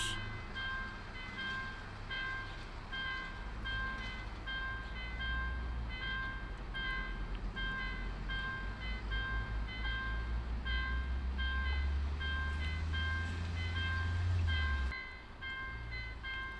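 A faint, distant train rumbles by beneath a steady ringing tone, its low drone swelling before cutting off near the end.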